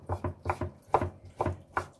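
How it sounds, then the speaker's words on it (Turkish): Peppers are diced into small pieces with a knife for an eggplant breakfast sauce: quick, close knife chops on a board in uneven pairs and triplets, about nine strikes in two seconds, with no voices. "Karabiberlerimizi de küçük küçük doğruyoruz."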